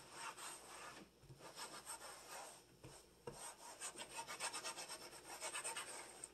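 A cloth wiping a surface with hydrogen peroxide, faint close rubbing strokes in an uneven back-and-forth rhythm with a few light knocks.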